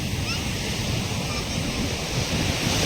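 Sea waves wash steadily onto a shore where boats head out, a continuous rushing roar with heavy wind buffeting the microphone.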